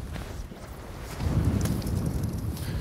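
Strong wind on a coast during fly fishing buffets the microphone in a steady, heavy rumble that swells midway and continues to the end, close and loud with no talking.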